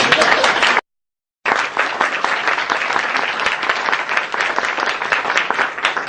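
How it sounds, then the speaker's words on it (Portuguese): Audience applause at a round-table panel session, loud, dense clapping from a crowd, cut briefly by a moment of dead silence near the start, then resuming steadily to the end. "Ok, palmas para isso"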